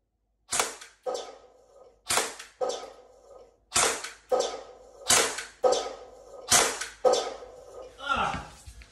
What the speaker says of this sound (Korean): 한발더 쏴라